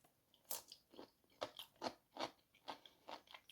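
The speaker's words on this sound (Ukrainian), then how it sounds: "Огірки, до речі, дуже хрумкі виходять за таким рецептом маринування." Crunchy marinated cucumbers are bitten and chewed close up, with a run of about ten crisp, wet crunches at an irregular rhythm and no talking.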